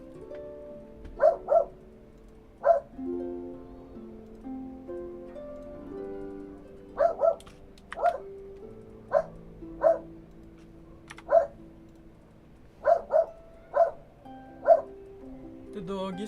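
A dog barks in short sharp bursts, often doubled, repeating irregularly over a quiet background with music faintly underneath, fairly close and loud.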